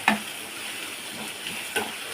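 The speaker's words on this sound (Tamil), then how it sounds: "குடமிளகாய் போட்டு நல்லா வதக்கிட்டு" Capsicum sautéing in a pan with ginger and garlic for chilli idli, a steady close frying sizzle with a couple of brief stirring scrapes near the start and end, no talking.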